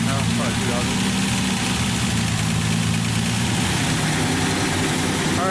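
A Datsun 280Z engine runs with its exhaust removed, a loud, raw, continuous rumble at steady idle filling the whole stretch, close up and uninterrupted, with no voices over it.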